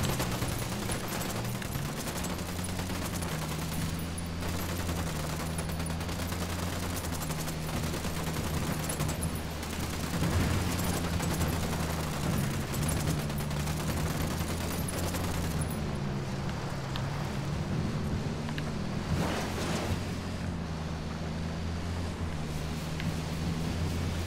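Sustained gunfire in the Ghost Recon Wildlands video game, dense rapid bursts and overlapping shots running continuously over a low rumbling engine drone, loud throughout with no break.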